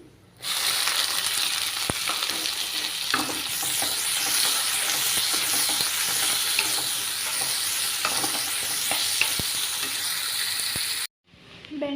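Sliced onions and red chillies sizzle loudly in hot oil for an okra (bendakaya) fry, a steady close crackle with occasional stirring clinks, cutting out abruptly near the end.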